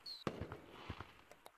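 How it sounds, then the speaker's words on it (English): Fireworks in the video game Gorilla Tag, a brief whistle followed by several quick crackling pops and bursts, fairly faint. "fireworks time"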